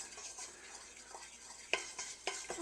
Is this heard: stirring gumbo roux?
yes